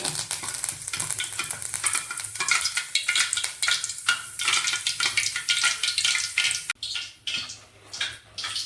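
Hot oil sizzles loudly in a pan for cauliflower 65, with a dense crackling hiss that surges and dips in bursts, close and continuous, and no voices.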